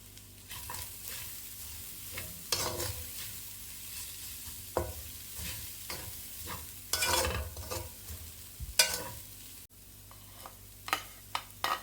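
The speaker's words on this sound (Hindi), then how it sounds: "फिर लहसुन ऐड कर दें।" Garlic fries in a pan for a Chinese chicken corn soup, a steady sizzle broken by repeated stirring scrapes and clinks of the spatula, close up with no voices.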